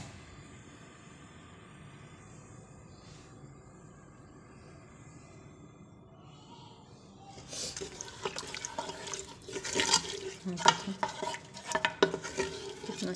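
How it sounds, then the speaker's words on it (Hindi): Onion masala frying in about half a cup of oil, first a quiet low simmer, then loud scraping stirs of a spoon against the pan with crackling sizzle over the last several seconds, no talking. "अच्छी तरह मसाला भूनेंगे।"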